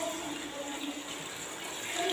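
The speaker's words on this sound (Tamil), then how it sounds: "ஓகே, நான் 2 கப் ரைஸ்க்கு நான் தண்ணி சேர்க்குறேன்." Water pours steadily into two cups of basmati rice for an Arabic chicken mandi, a soft, continuous close-up stream with a faint filling sound and no break.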